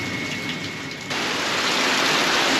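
Heavy rain pours steadily during a storm that brings flooding, a dense continuous hiss that swells louder about a second in and then holds without a break.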